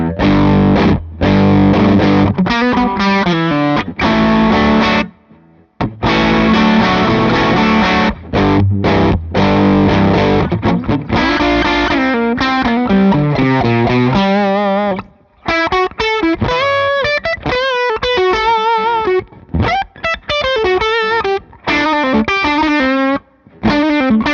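An electric guitar through a Nobels ODR-1 overdrive pedal plays a loud, continuous run of driven riffs and single-note lines with short pauses between phrases, close and heard alone.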